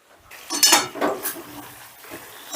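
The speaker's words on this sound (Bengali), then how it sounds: "দু মিনিট বাদে ঢাকাটা তুলে নিলাম" A metal lid clinks and scrapes as it comes off a pan of bean curry, a couple of close clattering knocks followed by a soft sizzle underneath.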